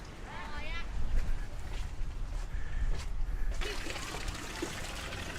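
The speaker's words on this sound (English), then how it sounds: "there's a little waterfall here that you can walk almost under" A small waterfall in seafront gardens at Felixstowe trickles and splashes steadily under a broad wash of outdoor noise, with a voice speaking faintly through part of it.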